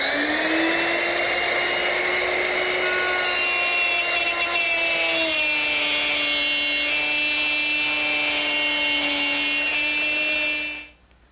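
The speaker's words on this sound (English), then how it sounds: "plow a groove in and stop just a little bit short of this lip" A router fitted with a straight cutter plows a groove in wood, giving a loud, sustained high-pitched whine that shifts pitch partway through as it cuts, then cuts off abruptly at the end.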